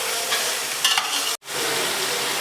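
Beef frying in a pot with tomatoes, a loud continuous sizzle broken by stirring scrapes and a brief silent gap near the middle.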